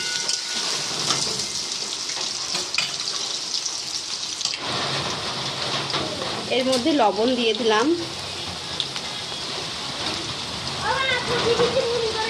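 Heavy rain pours in a steady, dense hiss throughout, close and loud enough to compete with someone talking over it while cooking khichuri.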